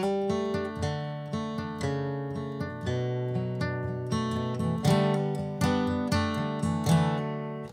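Guitar picking the verse pattern of a song slowly, with clear, evenly spaced plucked notes ringing together over a low bass line. It is close and moderately loud, with no talking.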